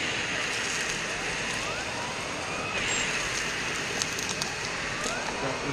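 A cordless Henry HVB160 vacuum cleaner drones steadily as it sucks up cat litter, a constant loud whooshing hum with faint gritty rattles of granules over it.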